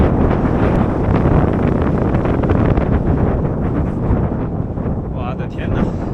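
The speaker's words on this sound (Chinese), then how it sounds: "又吹起大风了，现在是缓下坡，但是大风吹得有点骑不动。" Strong, continuous wind roars and buffets the microphone loudly while cycling down a gentle slope on the Ali loop road in Tibet, with a faint voice partly buried beneath it.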